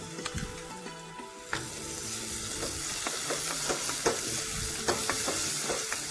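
Chopped tomato sizzling and frying in a pan for dal bukhara, a dense steady hiss broken by repeated stirring scrapes and clicks close by, with no talking.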